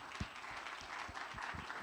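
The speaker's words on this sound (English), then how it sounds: "just a big round of applause." Steady applause from a staff gathering at an anniversary event, a continuous wash of clapping with a few louder individual claps standing out near the front.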